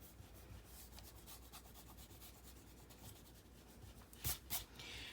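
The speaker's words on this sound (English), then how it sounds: "just kind of erase my lines that we don't" Pencil lines on paper are erased with soft, repeated rubbing strokes, a faint scratchy back-and-forth with a couple of brief louder scuffs near the end.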